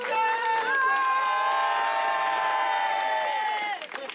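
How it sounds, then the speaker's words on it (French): A crowd at Japan Expo 2014 cheering and shouting for Coucou Circus, with sustained, tonal whoops and cries held loudly for several seconds before fading near the end, and only a little clapping in the mix. "On applaudit Coucou Circus"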